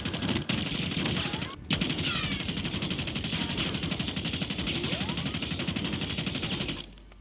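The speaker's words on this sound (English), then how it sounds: "the GPR recoil is very easy to control" Rapid automatic fire from a GPR assault rifle in the Warzone video game crackles in dense bursts with brief pauses, with faint game effects and a voice talking over it.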